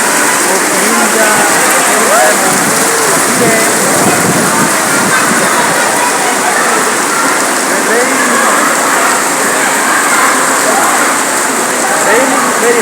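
Heavy rain pours down in a dense, steady roar that stays loud and unbroken for the whole stretch, with faint voices buried beneath it.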